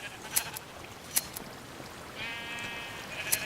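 Sheep in a building video game bleat once in a short, wavering call, with faint clicks around it.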